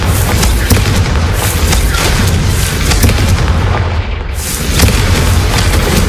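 Hogwarts Legacy Confringo spell blasts, a dense run of booming, artillery-like explosions and crackling bursts that keep going loud and steady, briefly dipping near the end before surging again.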